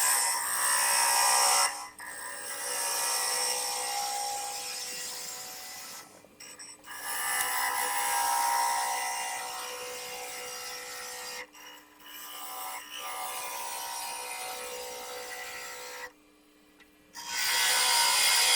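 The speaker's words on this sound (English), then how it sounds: "And then continue hollowing with a half-inch ball gouge." An oak lidded box is hollowed on a wood lathe with a half-inch ball gouge, giving a steady, close scraping rasp of tool on spinning wood, in long passes broken by a few short pauses, with no talking.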